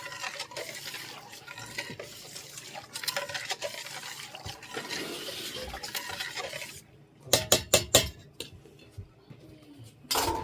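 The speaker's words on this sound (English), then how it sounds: "I stirred it all in real well, mixed it together." Yogurt mixture being stirred in a container, a soft continuous scraping swirl for several seconds, followed by a cluster of sharp utensil clinks and taps against the side near the end.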